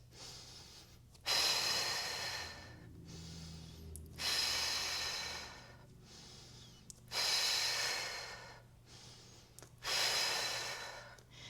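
Deep, slow breaths during a fitness mat class: four long, loud airy inhale-exhale cycles, each roughly two seconds, in a steady rhythm with short quiet gaps between, close to the listener and alone without talk.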